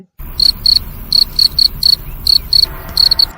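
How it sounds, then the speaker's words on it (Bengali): Crickets chirp close by in short, rhythmic pulsing bursts, repeating steadily over a quiet background. "ঝিঝি পোকার ডাক ছাড়া"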